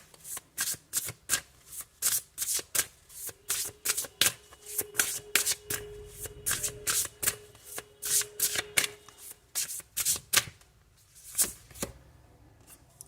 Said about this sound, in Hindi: कार्ड यहाँ से निकालेंगे।